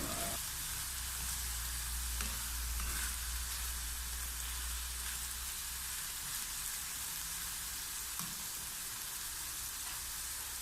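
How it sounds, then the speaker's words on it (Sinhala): Chopped ingredients for mixed rice sizzle and fry steadily in a hot pan, a continuous close crackling hiss with no talking, holding an even level throughout. "මේ සේරම ටිකක් වෙලා බැද ගන්න ඕනේ."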